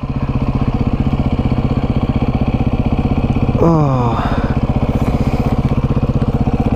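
Motorcycle engine idling steadily and close by at an early-morning stop on a last work day before vacation, with a brief louder rev partway through and a short exclamation from a person.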